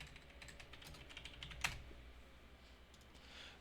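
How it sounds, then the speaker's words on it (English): Computer keyboard typing at a PC, soft and fairly quiet key taps in a short run, with one sharper click standing out midway against a low background hum. "type in Garland Tools"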